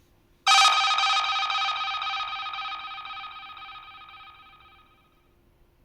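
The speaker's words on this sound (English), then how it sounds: "If the UK had a ringtone, it'd be this." A bright, ringing British telephone-style ringtone sample pulses rapidly and evenly, starting loud and fading gradually over several seconds, with nothing else around it.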